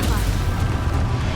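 In the Hogwarts Legacy video game, a Confringo fire spell explodes in a loud, rumbling, full-bodied boom that fills the short moment, with talking layered over it.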